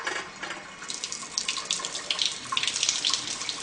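Water poured from a rice cooker pot through a small gap under the lid, a continuous close splashing stream that thickens and grows louder toward the end.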